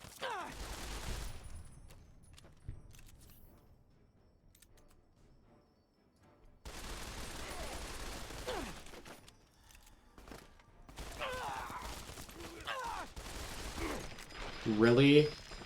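Assault carbine fire in the game Fallout, heard as bursts of rapid gunshots with mechanical clicks, separated by quiet gaps and ending in a loud burst.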